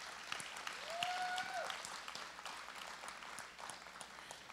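Applause from an audience at a 2022 celebration event, a dense patter of many hands clapping steadily throughout at moderate distance, with a brief whistled tone rising over it near the start.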